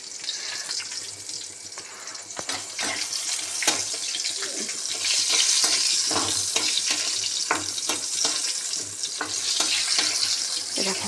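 Pointed gourd (potol) pieces frying in a pan like fish, a steady close sizzle with scattered pops and occasional stirring clatter running throughout.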